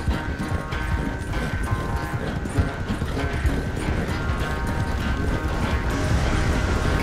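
Horse hooves clip-clopping at a steady gallop in the video game Red Dead Redemption 2, continuous and fairly loud over a dense bed of game music and ambience, with no talk.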